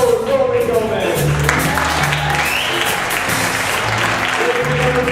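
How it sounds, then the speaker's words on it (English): A big band concert crowd applauds loudly and continuously for the trombone section, the clapping dense and close, with instrument tones sounding beneath it. "do one round of applause for your trombone section"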